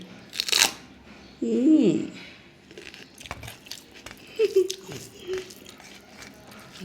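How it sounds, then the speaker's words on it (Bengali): A viral French chili pepper is bitten with a sharp, close crunch, followed by quieter chewing and mouth sounds, with a few soft clicks and handling noises around it. "এই যে যে একটা কামড় দিলে যে একটা শব্দ হয়, এইটাই শুনতে ভালো লাগে।"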